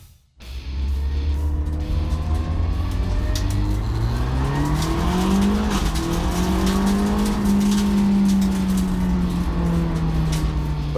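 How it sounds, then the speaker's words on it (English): A Volkswagen Polo TDI tin-top race car accelerates steadily and loudly, its engine note rising through the gears with a close, continuous roar and no talk. "I'm driving the Polo TDI."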